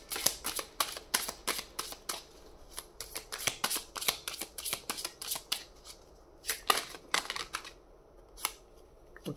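Tarot cards are shuffled and drawn in a quick, steady run of crisp riffles and slaps, close and fairly quiet, with no voices.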